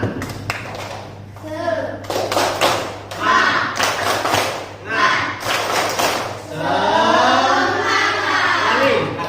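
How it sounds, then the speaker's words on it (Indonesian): Classroom of third-grade pupils performing a rhythmic 'tepuk semangat' spirit clap, patterned bursts of claps and thumps repeating through the clip alongside the children's chanting voices, loud and close in a lively room. "Baik, kita mulai tepuk semangat"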